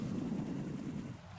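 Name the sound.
Cypher surveillance drones hovering in Metal Gear Solid 2 video game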